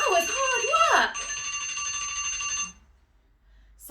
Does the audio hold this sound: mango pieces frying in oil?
no